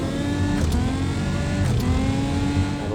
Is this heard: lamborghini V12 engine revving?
yes